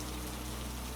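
Steady rain falls in a continuous, even wash of drops hitting surfaces, with no voices.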